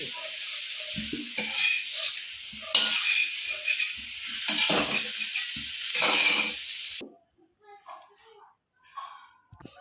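Eggplant slices fry in oil in a pan with a loud crackling sizzle and bursts of stirring for about seven seconds, then the frying cuts away to near quiet with faint scraping.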